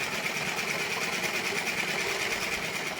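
A sewing machine stitches pieces of an anarkali dress together, a steady, fast, whirring hum running continuously without a break.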